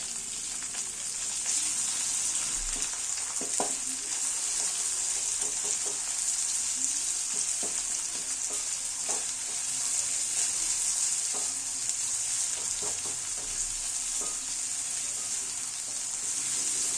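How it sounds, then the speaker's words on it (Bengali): Chopped onions fry in a spiced masala for a soya chunk curry, giving a continuous bright sizzle with scattered taps and scrapes of stirring. "এবারে দিয়ে দেবো কেটে রাখা পেঁয়াজ"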